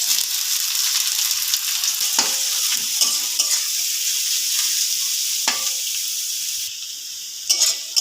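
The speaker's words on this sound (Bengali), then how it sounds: "পেঁয়াজটা ভেজে নেব।" Onions frying in oil for egg chowmein, a steady crackling sizzle close by, punctuated by several sharp spatula scrapes and clinks against the pan, with no speech.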